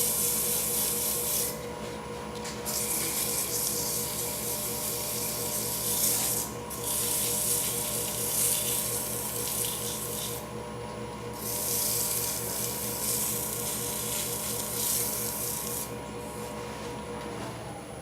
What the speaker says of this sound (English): I would normally sand it down to 440, 420, whatever it is, 400 grit.